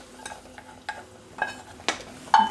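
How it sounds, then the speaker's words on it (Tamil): Sweet pongal stirred in a pan with cardamom: a few soft, brief scraping strokes of a spoon against the pan, spaced unevenly and close by, with no one talking. "நன்கு கிளறி விடவும்."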